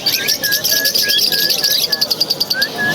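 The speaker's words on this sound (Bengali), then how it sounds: "দেখেন এখানে আছে আবার ছোট যে লাভ বার্ডগুলো কিন্তু সেরকম সুন্দর" Small lovebirds at a bird market chirp loudly and close up, a quick regular string of bright repeated tweets over a busy background.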